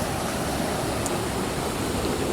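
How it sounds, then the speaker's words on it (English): Creek flowing loudly past a garden, a dense, constant rush of water, close and steady, with no talk. "sorry, the creek's gonna get loud."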